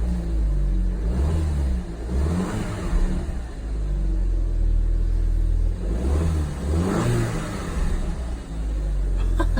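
A cold Audi TT 2.0 TFSI, 200 hp, fitted with a Milltek exhaust, gets two distinct throttle blips that rise and fall over a steady low idle, heard close and loud.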